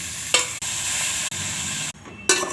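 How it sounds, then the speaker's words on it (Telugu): Marinated chicken for biryani goes into a pan of frying ginger garlic paste, giving a steady, close, loud sizzle broken by short stirring scrapes and brief pauses. "అల్లం వెల్లిపాయ పేస్ట్ వేగిన తర్వాత మనం ముందుగా మ్యారినేట్ చేసి పెట్టుకున్న చికెన్ వేసుకుందాం."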